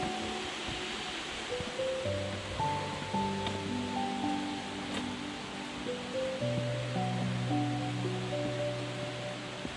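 Glencar Waterfall in County Leitrim, a steady broad rush of falling water heard from a moderate distance, constant and unbroken throughout, with faint tonal sounds drifting above the roar.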